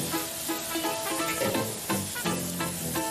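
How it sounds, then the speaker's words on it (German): Thin Eritrean bread batter, poured without fat, sizzles steadily in a hot non-stick pan, a close, continuous frying hiss with faint crackles. "den gießt man ganz dünn, ohne Fett, in eine heiße beschichtete Pfanne"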